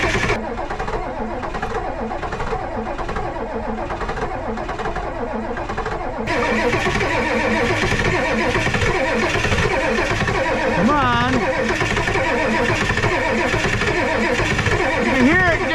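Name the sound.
Ford 7.3 Power Stroke diesel engine cold starting at minus 43F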